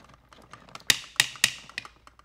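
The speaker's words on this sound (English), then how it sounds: "There's that ratchet." Ratchet joints on a Hot Toys battle-damaged Thanos sixth scale figure click sharply up close, three crisp clicks in quick succession followed by a few softer ticks, alone in a quiet room.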